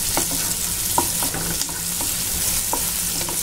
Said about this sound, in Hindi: यहाँ पर मैंने ऑयल डाल दिया है, लेमन सीड्स डालेंगे, अनियंस इसमें